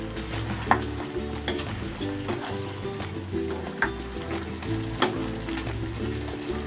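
Chicken sizzles in a pan with potatoes, carrots and Vienna sausage, a steady loud frying hiss broken by periodic stirring scrapes and clinks, with no talking.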